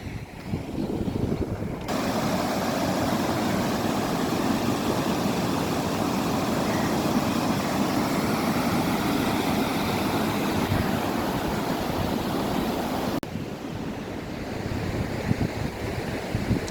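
Kaveri river in monsoon flood at Srirangapatna after the dam gates were opened, a loud, steady broadband rush of churning water running unbroken throughout, with wind buffeting the microphone.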